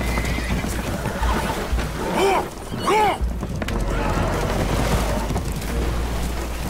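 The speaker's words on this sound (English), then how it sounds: "Horses are spooked, and we're taking on water." Spooked horses neigh twice on a damaged, flooding boat in Red Dead Redemption 2, loud whinnies over a dense rumbling background of game sound.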